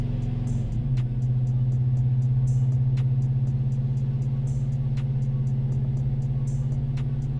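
A Procharged, BTR-cammed 6.2L GMC Denali engine pulls in third gear on a dyno, a loud, steady, close drone with strong low harmonics holding throughout, no talking.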